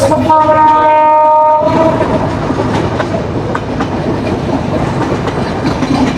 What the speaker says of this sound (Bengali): স্টেশন দিয়ে চলে যাচ্ছে চিত্রা এক্সপ্রেস